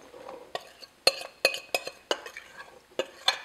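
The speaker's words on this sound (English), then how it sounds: "I've done is put a strainer over a bowl, and I'm just going to dump all this in" Juicy cut apples are dumped into a metal strainer set over a bowl, making a run of wet clattering thumps and rattles, about ten distinct hits in quick, uneven succession, close and fairly clear.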